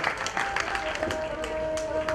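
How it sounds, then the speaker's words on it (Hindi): Scattered applause from an audience at a staged religious drama, individual claps audible over a murmur of background voices and a sustained tone, fairly faint and uneven. "तालियां। जोरदार तालियां।"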